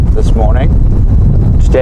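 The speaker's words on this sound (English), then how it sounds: "it is a very, very windy morning" Strong wind buffets and roars against the microphone in a steady low rumble on a morning safari, with brief bits of a voice breaking through.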